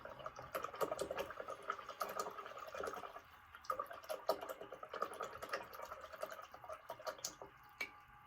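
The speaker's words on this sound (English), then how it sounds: "Clean off the brush, the medium dirty water." A paintbrush swished and tapped in a container of dirty water after brushing on ceramic glaze, close, quiet sloshing and dripping with irregular knocks against the container.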